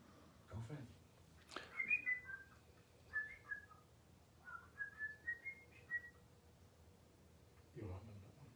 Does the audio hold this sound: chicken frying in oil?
no